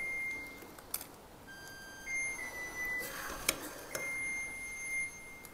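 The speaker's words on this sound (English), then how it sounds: "That's just my oven's preheated. Plays a little song." A kitchen oven signals that it has finished preheating with a short melody of clear electronic beeps at different pitches, fairly faint over a quiet room.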